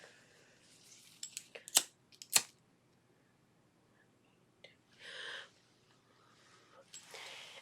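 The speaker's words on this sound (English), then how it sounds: "I'm just gonna trim away that little thread there" Scissors trim a loose thread from a ribbon edge with a few quick, sharp snips close to the mic, followed by quiet soft rustles and faint breathy handling noises in a near-silent room.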